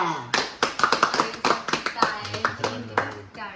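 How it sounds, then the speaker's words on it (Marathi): A small group claims in quick uneven bursts, sharp slaps close by, while voices chatter and talk over the clapping. "तर आता टाळ्या झालेल्या आहेत"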